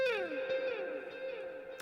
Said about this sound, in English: I've got a sound that has some delay and a big old reverb on it